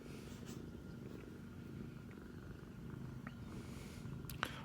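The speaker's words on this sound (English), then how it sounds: "as you can tell, he is quite the purr." A cat purrs close up in a soft, continuous rhythmic rumble, with a couple of faint clicks near the end.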